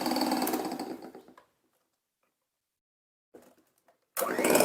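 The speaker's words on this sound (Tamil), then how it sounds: "அப்படியே மிக்ஸ் பண்ண மிக்ஸ் பண்ண அந்த பீட் பண்ணுறதே வந்து டஃப்பாகிற மாதிரி வரும்" An electric mixer beats a homemade marshmallow mixture, giving a loud, steady whirring burst, then near silence, then a brief faint clatter and another loud whir at the end.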